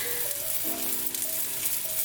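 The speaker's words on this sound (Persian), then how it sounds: "بانجانای ما طوری که میبینیم در حال سرخ کردن است" Eggplant slices and meat patties fry in a pan with little oil, giving a steady, close sizzle and crackle with faint scraping as they are stirred, with no voices.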